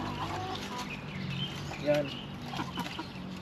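Backyard chickens, including a hen, clucking softly at close range amid garden ambience, with someone talking over the brief clucks.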